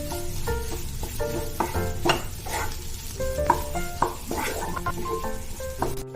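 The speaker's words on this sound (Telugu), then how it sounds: "ఇప్పుడు ఈ మసాలాలన్నీ పన్నీర్కి బాగా పట్టేలాగా ఫ్రై చేసుకుంటూ మిక్స్ చేసుకోవాలి." Paneer fries with masala in a pan, a steady close sizzle broken by repeated metal spatula scrapes and clinks as it is stirred, no voices.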